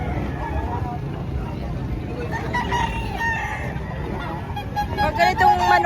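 Chickens cluck and roosters crow amid the bustle of a live poultry market in Padre Garcia, Batangas, with several birds calling close and far and a loud crow toward the end, while people talk in the background.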